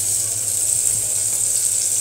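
Pointed gourd (potol) slices fry in a pan, giving a steady, close sizzle that holds evenly throughout with no talk over it.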